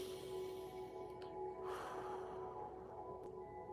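A deep breath during a live stretching workout, a slow, airy inhale and exhale heard over steady background hum, with no speech.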